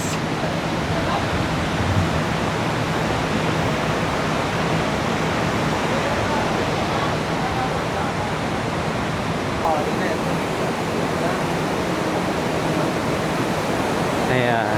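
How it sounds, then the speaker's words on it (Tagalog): River water rushing at Maria Cristina Falls in Iligan City, Philippines, a steady, dense broadband roar throughout, with a person speaking briefly over it. "So ito yung agos ng river dito sa Maria Cristina Falls."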